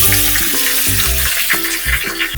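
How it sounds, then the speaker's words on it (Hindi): Potatoes go into a pan of crushed garlic frying in oil, giving a dense, continuous sizzle with stirring. Steady low tones run underneath the frying. "ये लहसुन भुन गया है, अब हम इसमें आलू ऐड करेंगे।"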